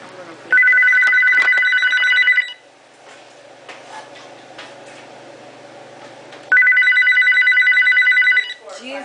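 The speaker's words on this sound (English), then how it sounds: "Jeez, lots of rings." A landline telephone rings in two long trilling bursts separated by a quieter pause with faint room noise, loud and close, before an answering machine picks up.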